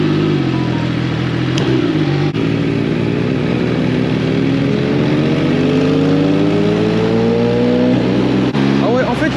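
An MV Agusta 800 Dragster RR motorcycle on a test ride drones loudly up through the gears in rising revving sweeps, close and continuous, with voices talking over the engine.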